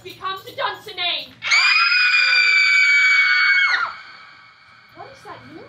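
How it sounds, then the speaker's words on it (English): During a stage performance of Macbeth, a woman lets out a loud, piercing shriek that lasts about two seconds. Spoken lines come just before it, and voices follow as it fades. "Wherefore was that cry?"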